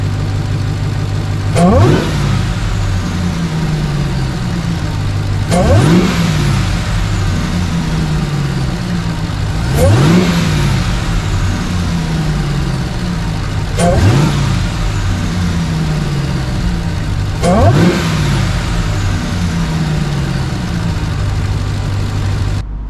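A parked 2022 Ram TRX with an AFE cold air intake and Corsa exhaust revs its engine in five loud, evenly spaced blips that swell and fall back to a steady idle rumble between them.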